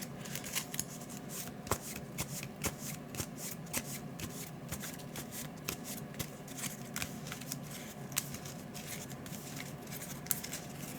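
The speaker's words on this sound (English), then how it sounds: "I like to try to spread them out in the middle and then shuffle just to make sure they're not next to each other." A deck of Marvel Champions card game cards is riffle-shuffled at a tabletop, producing quick repeated crisp flutters and snaps, close and fairly quiet, with no talking.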